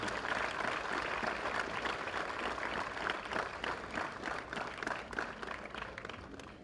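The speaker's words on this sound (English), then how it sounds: "huge round of applause to Shikha Goel Garu." An audience applauding a speaker invited onto the stage at an AI conference, dense sustained clapping from a large crowd throughout, steady and full, tapering slightly toward the end.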